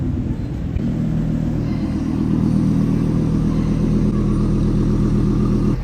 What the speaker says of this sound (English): Beautiful Porsche 911 convertible. And it's a Carrera S.